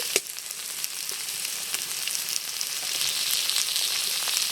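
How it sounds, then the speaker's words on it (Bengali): Tender garden okra frying with salt, turmeric and chili powder in a pan, a steady bright sizzle with occasional pops and crackles, close and continuous. "মশলার সাথে ভেন্ডিটা ভেজে নিয়েছি।"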